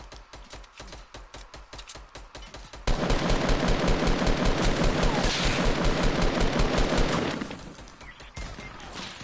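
Video game gunfire: quick repeated shots at first, then a long, loud, dense burst of automatic fire that suddenly stops, leaving sparse shots afterwards.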